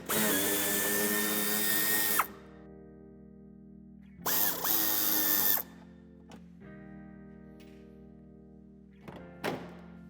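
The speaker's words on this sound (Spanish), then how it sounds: "Para desmontar también el paragolpe será necesario que quitemos 2 tornillos en el paso de ruedas y un tercero en la esquina" A power tool whirs in two bursts, about two seconds and one second long, removing screws from the bumper of a BMW 3 Series Touring F31. Quieter clicks and knocks from the work fall in between and after.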